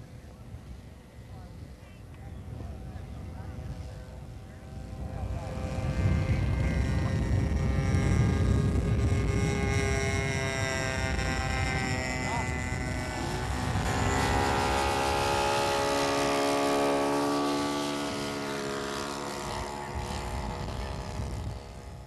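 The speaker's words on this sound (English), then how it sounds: "Power is provided by an OS-91 four-stroke engine." A vintage RC Waco Cabin biplane powered by an OS-91 four-stroke engine flies past, its buzzing drone swelling and fading with shifting pitch, moderately distant, with someone narrating over it.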